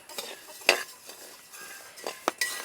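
Coriander seeds for homemade Kerala sambar powder are being dry-roasted and stirred in a heated uruli, giving irregular scraping and rattling strokes at close range, with no voices.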